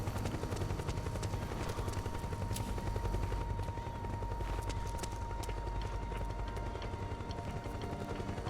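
A helicopter in Metal Gear Solid 4 makes a continuous loud rotor drone, with rapid popping bursts like distant gunfire mixed in throughout.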